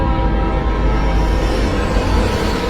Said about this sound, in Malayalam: ഇരുട്ടിനെ കീറി മുറിച്ച് ഹുങ്കാര ശബ്ദത്തോടെ അടുത്ത ട്രാക്കിലൂടെ മറ്റൊരു ട്രെയിനും കടന്നുപോയി